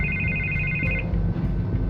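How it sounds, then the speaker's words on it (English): A telephone rings in Batman: The Telltale Series video game. Its electronic ringtone trills in short repeating bursts over a steady low background hum, with no talk. "I can't get the phone to stop ringing."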